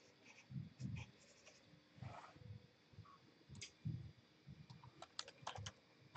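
Keys on a computer keyboard clatter in short irregular bursts of quiet typing during a live OpenSCAD coding class, close-miked and fairly soft.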